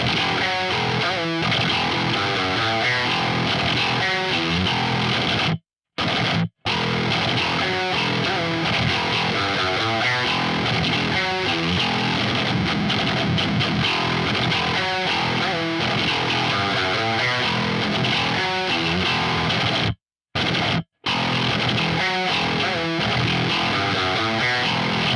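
Distorted rhythm electric guitar through a Neural DSP Nano Cortex stock capture, playing chugging palm-muted riffs and chords loud and continuous for about twenty-five seconds, broken by two brief silent gaps.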